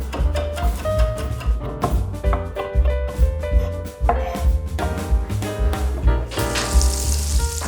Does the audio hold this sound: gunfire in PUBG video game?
no